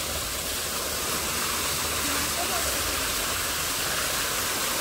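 Water flowing and splashing in an aquarium tank, a steady broadband rushing wash like a small waterfall that stays constant and close throughout, with no voices.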